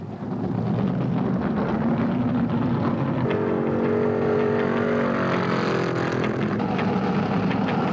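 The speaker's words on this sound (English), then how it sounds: "Now watch the cars pour into the pits." A field of 1972 NASCAR stock cars pours into the pits under caution at the Motor State 400, their engines a continuous, heavy roar with a rising, layered drone of several cars at once.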